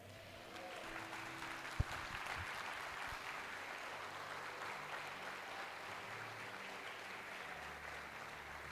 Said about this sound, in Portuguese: diga amém e aplauda bem forte, Senhor.